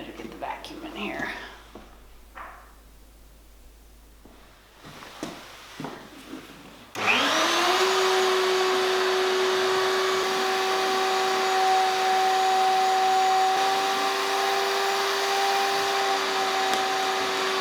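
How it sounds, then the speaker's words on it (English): A vacuum cleaner switches on partway through and runs steadily with a loud, constant whine, after a few seconds of quiet rustling and soft talk. "I better get the vacuum in here."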